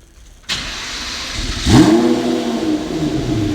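A Lamborghini engine is started while backing out: after a short quiet moment it cranks and catches with a loud bark, rises into a rev, then settles into a deep, rumbling idle, close and alone.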